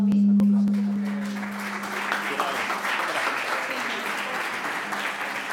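Audience applause welcoming a speaker at a business presentation on wearable glasses, steady moderate clapping that swells in after a brief tone and a few close knocks at the start, with a voice briefly heard.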